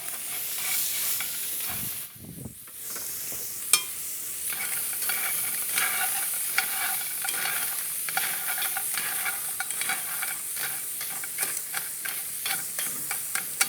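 Cockles hit a hot pan and sizzle steadily while being stirred, a loud continuous frying hiss with scraping and clinking of the utensil throughout.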